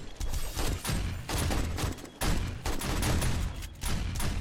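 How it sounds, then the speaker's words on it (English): Shotgun turrets blast away at a zombie horde during horde night in 7 Days to Die, a loud, dense barrage of overlapping gunfire with only brief dips between volleys. "the shotgun turrets are absolutely destroying the hell out of those things"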